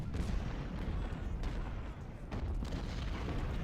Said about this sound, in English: well, they're taking shots